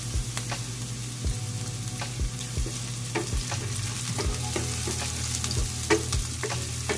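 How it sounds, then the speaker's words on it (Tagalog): Garlic and onion sauté gently in a pan, a steady close sizzle broken by repeated scraping strokes of a spatula at an uneven rhythm, with no voices. "Gusto ko sa bawang guys at saka sibuyas, pinalalanta lang."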